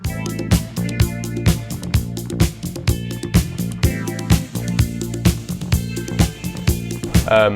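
An upbeat disco song plays with a steady four-on-the-floor kick, bright hi-hats and sustained chords, continuous and loud with no talking.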